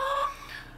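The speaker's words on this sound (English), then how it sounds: "hens are very noisy this morning apparently" A brief hen cluck, nasal and close, fading quickly into quiet background.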